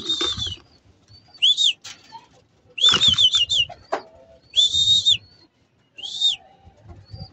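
Racing pigeons return from a 311 km race, wings flapping in several short bursts close by amid repeated high chirps and coos, with quieter gaps between the flurries.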